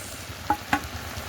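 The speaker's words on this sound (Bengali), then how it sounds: "তার মধ্যে দিয়ে দেবো ভেজে রাখা চিংড়ি মাছ।" Pre-fried prawns dropped into taro greens cooking in a wok, giving a soft sizzle with two brief clatters of stirring, quiet and without talk.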